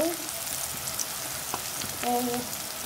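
Garlic paste and ginger paste go into hot oil, a moderate even sizzle with a few light clicks and utensil taps, heard close with no talking over it.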